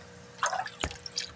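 Water drips into a crayfish acclimation container, giving a couple of close, sharp plinks and a soft splash in an otherwise quiet setting.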